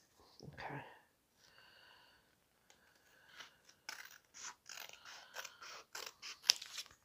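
Scissors snip through wallpaper in quiet, close cuts, a brief rustle first, then a rapid run of crisp snips growing denser toward the end.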